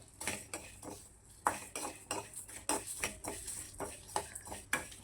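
Mutton being fried for mutton sukka, with a spoon repeatedly clinking and scraping against the pan in an uneven rhythm, close and fairly quiet, no talking.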